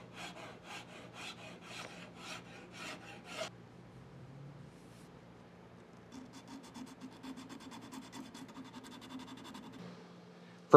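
A wooden pizza cutter handle sanded by hand: a run of steady, rhythmic back-and-forth rasping strokes, a short pause, then a longer stretch of smoother continuous rubbing, close and clear with no speech.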